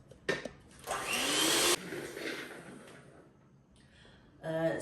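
An electric mixer whirs while beating eggs with sugar for a Giferalda cake: a short burst, then a longer loud run that cuts off and trails away, and a final burst starting up near the end.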